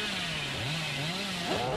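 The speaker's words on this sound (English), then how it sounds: "Now, can we get a chainsaw here?" The Hillbilly's chainsaw in the video game Dead by Daylight drones steadily, its engine pitch wavering and rising in revs across the short stretch, loud and continuous with no talking.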